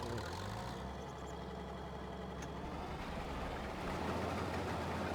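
A tractor engine idling in the farming game Farming Simulator 22, a steady low rumbling drone that holds constant and swells slightly louder toward the end.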